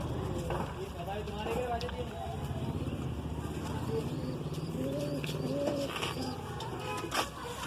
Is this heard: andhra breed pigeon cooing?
yes